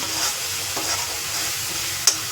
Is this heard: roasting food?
yes